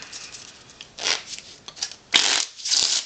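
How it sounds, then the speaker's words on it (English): Bursts of riffling playing cards in a sloppy table shuffle, several quick flurries close by with short pauses between. "I even do the sloppy table shuffle."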